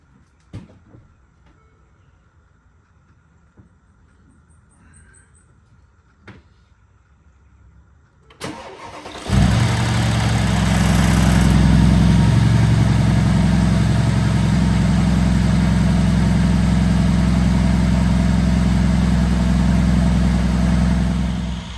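Quiet shuffling and clicks, then a Mercedes R231 SL550 with aFe Power air filters cold-starts, cranking and catching with a loud rev before settling into a steady, rumbling idle that continues.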